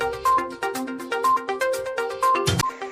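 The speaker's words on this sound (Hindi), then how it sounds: "मैं फोन करता हूँ आपको" A phone ringtone plays as a call is placed, a repeating electronic melody of bright tones in a steady rhythm, loud and close with no talking over it.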